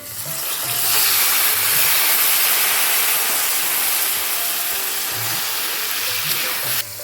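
Marinated local chicken goes into a hot pan of oil and fried onions, setting off a loud, continuous broadband sizzle that swells quickly and holds steady for several seconds, with a brief scrape near the end.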